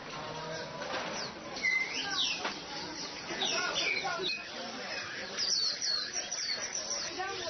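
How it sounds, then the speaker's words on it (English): Birds chirp and coo at a market in Nanjing, with scattered tweets and pigeon-like calls sounding from around the stalls amid busy crowd murmur and nearby voices. "You've got birds kind of chirping everywhere."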